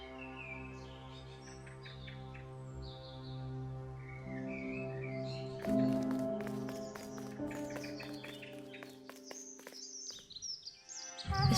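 Chirping bird calls from the video game The Last Campfire drift over a sustained ambient music bed, with brief scattered clicks and flutters toward the end.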